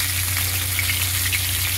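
Pomfret fish sizzle steadily in hot oil, an even, close crackle with a low hum beneath and no voices.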